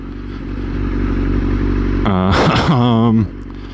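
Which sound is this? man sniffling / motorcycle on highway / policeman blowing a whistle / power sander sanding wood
motorcycle on highway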